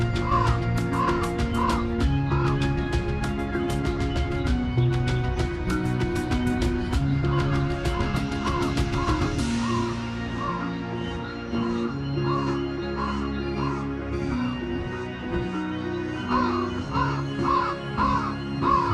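A crow caws again and again in harsh, repeated calls over steady background music, moderately loud and close throughout.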